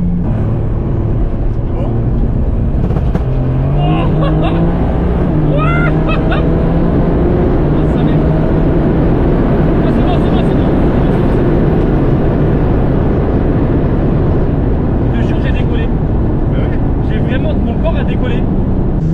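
An 850 hp BMW E36 revs hard with rolling anti-lag, a loud, rough, continuous engine roar with popping bursts, heard close while someone speaks briefly.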